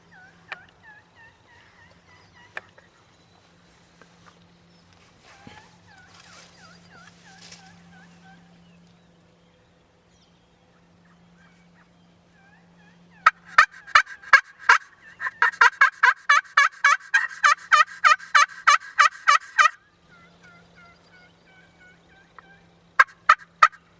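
Wild turkeys gobble repeatedly during a Wisconsin spring turkey hunt, loud rattling bursts that come in quick clusters, mostly near, with quieter calls and gaps of near silence between them.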